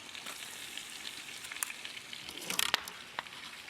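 Grated garlic fries in butter and olive oil over moderate heat, a steady close sizzle with bright crackles and a few sharper pops and stirring clicks near the end, without talk.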